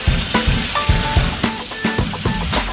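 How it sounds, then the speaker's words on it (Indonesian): Grasshoppers frying in hot oil for a spicy stir-fry give a steady, close sizzle with recurring crackles and clinks of a utensil against the pan, no voices. "Belalang akan digoreng supaya lebih terasa lagi kriuknya."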